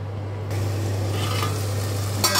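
Tomato curry with salt and turmeric being stirred in a hot pan, a steady soft sizzle with faint scraping of the spoon, close and alone beneath a constant low stove hum.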